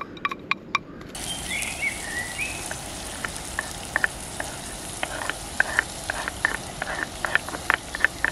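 Onion sizzles and crackles in an old frying pan. A steady hiss runs throughout, dotted with sharp spitting pops. It is close and fairly loud, with a few clicks at the very start.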